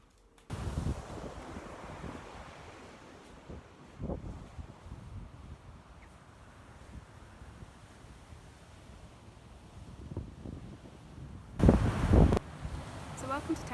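Wind and breaking surf along Terrigal Beachfront, a golden-sand beach in a small town about two hours north of Sydney, Australia: a low, steady rush of moving air and water, with a few fuller swells and a louder gust near the end.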